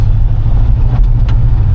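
A Chevrolet 5.3-liter LS V8 in a truck drones loud and steady from the engine, a constant low rumble with only slight rises in throttle and no clear rev climb.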